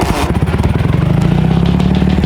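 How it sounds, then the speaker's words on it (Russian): Ural motorcycle with a worn gearbox release bearing and a gear not fully engaged, running close by with a steady rhythmic mechanical clatter over the engine's low pulsing throb. "Это в коробке подшипник."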